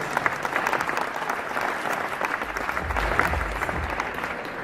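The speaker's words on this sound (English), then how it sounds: "Please give them a round of applause." Steady applause from a sizable audience at a tourism awards ceremony in London, dense clapping that holds at an even level throughout.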